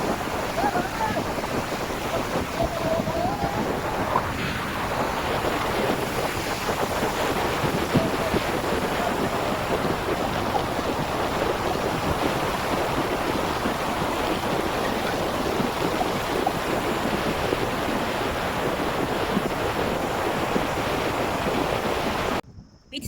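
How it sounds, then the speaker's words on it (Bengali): Sea waves break on the white-sand beach at Bakkhali during a rising high tide, a continuous close roar of surf mixed with heavy wind buffeting the microphone. "এখন তো ঢেউ আছে জোয়ার চলছে"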